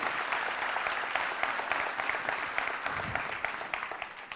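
An audience at a motivational talk claps for itself, a dense, steady burst of applause that carries evenly for about four seconds with no voices over it.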